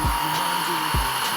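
A hair dryer blows steadily on dreadlocks, a loud continuous whir with a constant tone, broken by low thumps as the dryer is moved.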